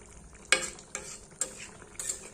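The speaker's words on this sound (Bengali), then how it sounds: "ঝোলটাও ফুটে এসছে" Potato curry gravy bubbles and sizzles gently in a cooking pot, broken by four sharp metallic ladle knocks at roughly half-second intervals, close and fairly quiet.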